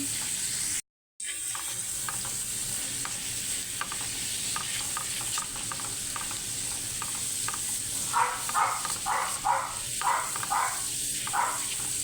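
Garlic frying in a pan until brown, a steady soft sizzle with scattered stirring scrapes and clatter picking up toward the end.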